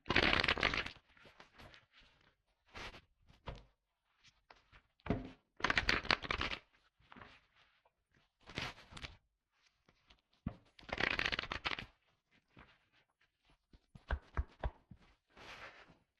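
Tarot cards being drawn and shuffled in bursts of brisk riffling and soft flicks, spaced out with quiet pauses, close and fairly faint, with no voices.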